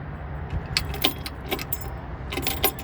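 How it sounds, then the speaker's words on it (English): An ignition key turned in a bus during a battery replacement, with close metallic jingles and clicks of keys in a few brief bursts over a low background hum and no voices. "I'm going to switch the ignition to the rear and get absolutely nothing"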